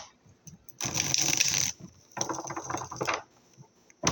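Two bursts of rapid, crisp riffling as tarot cards are shuffled up close, separated by a short pause, with a brief snap at the end.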